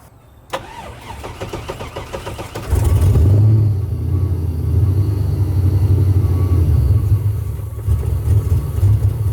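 An abandoned Mazda RX-7 FC rotary engine cranks for a couple of seconds, catches and fires loudly, then settles into a rough, uneven idle close to the microphone, with no talking.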